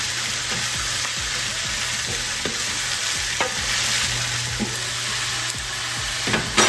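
Steady sizzling and crackling of vegetables frying in a covered pan, continuous and close, with occasional soft pops and clinks.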